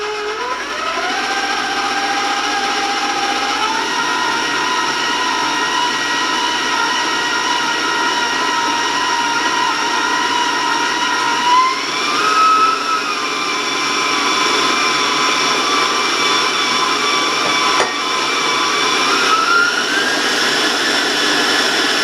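Electric mixer beating chocolate sprinkle cookie batter, with melted chocolate drizzled in; a loud, steady motor whine runs the whole time, its pitch shifting slightly as the beaters work through the batter.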